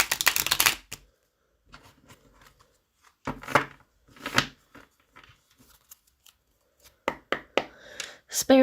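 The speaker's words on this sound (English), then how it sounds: "Let's do one more shuffle." Tarot cards are shuffled by hand in quick crisp bursts of riffling and slapping, separated by short pauses, close and clear with no talking.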